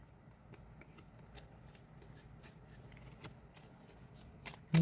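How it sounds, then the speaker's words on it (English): Tarot cards being shuffled by hand make a quiet run of soft, rapid riffling flicks that ends in a sharper snap, with no voices. "I need to shuffle one more time"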